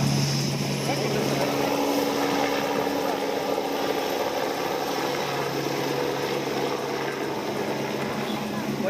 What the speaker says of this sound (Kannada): ಜಿಟಿಜಿಟಿ ಮಳೆಯಲ್ಲಿಯೇ ಹೆಲಿಕಾಪ್ಟರ್ ಮೂಲಕ ಕಲಬುರಗಿಗೆ ಹೊರಟು ಹೋಗಿದ್ದಾರೆ